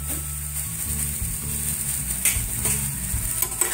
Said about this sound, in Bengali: এবার ভালো করে মশলাটা আমি মিশিয়ে নেব।